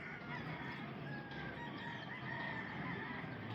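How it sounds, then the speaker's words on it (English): Chickens on a hillside hiking trail near Ajijic clucking and crowing in the background, a steady, fairly distant farmyard chatter with no talking. "And the chickens this morning."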